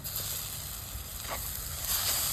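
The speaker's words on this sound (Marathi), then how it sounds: "आता मसाले पण व्यवस्थित परतून घेऊ।" Spices and chopped tomatoes sauté in a pan with a faint, steady sizzle and soft hiss close by, nobody talking.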